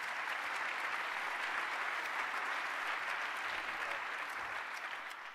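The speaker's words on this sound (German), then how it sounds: "Der kriegt jetzt erstmal einen Applaus" Audience at a conference on digital public administration applauding, a steady dense clatter of many hands that holds evenly and tapers slightly at the end.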